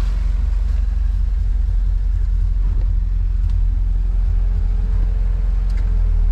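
A Honda Civic engine idles with the air-conditioning compressor clutch engaged, giving a loud, steady low rumble and hum that stays constant from start to finish.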